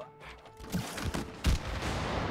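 Rapid gunfire in the video game It Takes Two, a cluster of punchy bursts and booms over game sound, fairly loud and close.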